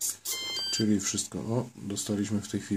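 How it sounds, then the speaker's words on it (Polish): Warning beeps from an RC radio transmitter signalling lost contact with its receiver, several short high tones repeating alongside someone speaking throughout. "radio od razu wysłało komunikat ostrzegawczy o utracie sygnału z odbiornikiem"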